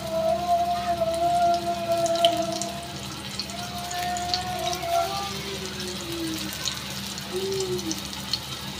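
Bombil (Bombay duck) fish fry in a pan over a slow gas flame, giving a continuous crackling sizzle like light rain, with faint tonal sounds in the background.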